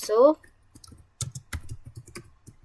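Keys click on a computer keyboard as a command is typed, in uneven close taps after a brief spoken word at the start.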